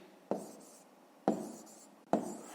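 Numbers are written by hand during a fifth-grade math exercise, heard as three close, distinct pen strokes against paper, each a short scratchy tap spaced about a second apart in a quiet room.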